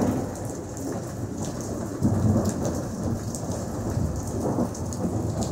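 Steady rain falls during a storm with rolling thunder rumbling beneath it, a dense continuous wash of raindrops with a deeper swell of thunder partway through, heard from a porch with no talking.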